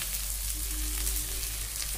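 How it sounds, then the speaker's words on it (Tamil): Coriander leaves sauté in a pan for vegetable pulao, giving a steady, close, even sizzle of frying with no talking. "ஒரு 30 seconds அப்படியே நல்லா வதக்குவோம்."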